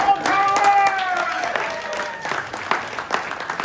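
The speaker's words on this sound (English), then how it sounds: "So a round of applause." A round of clapping at a Bellevue city council re-election campaign event, crowd hands patting under lingering music or tones that fade as the sparse claps continue.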